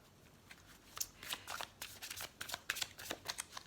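Tarot cards are shuffled and drawn for a reading, giving soft riffling and flicking bursts that come in an uneven rhythm, close but quiet, with no speech over them.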